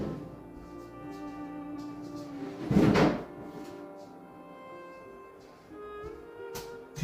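A car front bumper being carried through a doorway knocks against the wooden door frame, one loud dull thud midway amid quiet handling noise and rustling.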